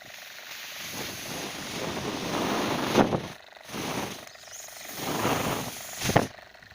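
A homemade air compressor motor mounted on springs runs in rhythmic pumping cycles, each a swelling broadband hiss-like surge with sharper bursts, close and moderately loud.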